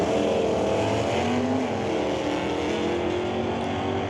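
A K-Stock Automatic 1988 Mustang and an E-Stock Automatic 1970 AAR Cuda at an NHRA drag race give off a loud, close engine drone with strong, steady harmonic tones and no talk.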